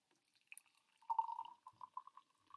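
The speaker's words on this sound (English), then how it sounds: "I have my boiling water that you can see the steam coming off of in a measuring cup, and I'm going to pour it into" Boiling water pouring from a measuring cup into a glass jar, heard as soft close trickles and drips that build into a brief steadier stream, faint and delicate in a quiet room.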